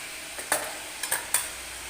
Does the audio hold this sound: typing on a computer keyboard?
no